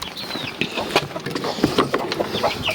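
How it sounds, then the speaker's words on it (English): Small chicks in an allotment run peep and cluck in quick irregular bursts, close and fairly clear, with rustling and handling noise around them. "This is the chicks."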